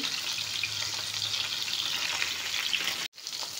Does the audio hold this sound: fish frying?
yes